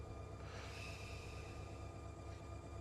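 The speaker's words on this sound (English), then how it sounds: "Yeah, engine startup sounds good." A locomotive diesel engine starts up in the Run 8 train simulator game, giving a low, steady rumbling drone with a faint high whine riding over it.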